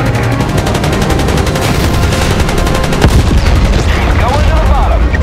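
Naval guns roar in a battleship game as the USS Iowa and HMS Conqueror fight four Japanese aircraft carriers: a dense, continuous barrage of loud gunfire and booms that runs without a break.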